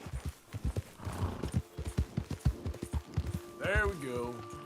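A horse gallops with rapid, steady hoofbeats in Red Dead Redemption 2, then gives a loud whinny near the end, while someone talks over the running.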